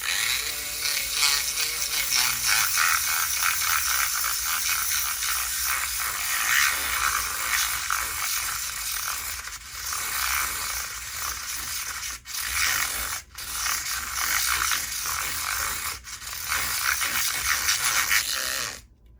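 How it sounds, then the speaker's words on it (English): A handheld Fluid Art Co. pigment and paint mixer whirs steadily as it stirs pigment into paint for glow-in-the-dark cell activators, a continuous buzzing drone with a few brief dips, alone and close. "I'm just gonna mix these up using my pigment and paint mixer from Fluid Art Co."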